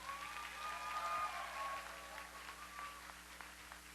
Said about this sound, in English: Can we give them all one more time a round of applause?